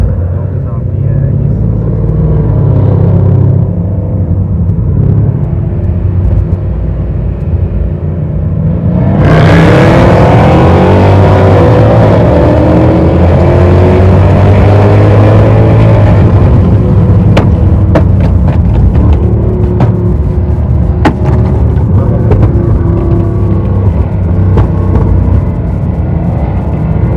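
Cars rev and drive past at a Lahore car meetup, a steady loud engine rumble rising into a stronger surge midway with engines revving, while people talk throughout.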